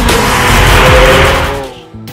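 A Lamborghini Aventador LP 750-4 Superveloce sports car roars loudly for about two seconds, a dense engine howl with a rising pitched whine that fades out at the end.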